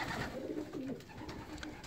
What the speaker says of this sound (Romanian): Îmbarcare la care noi am dus un număr de 19 porumbei